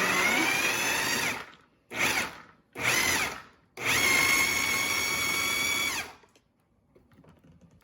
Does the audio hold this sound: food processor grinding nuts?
yes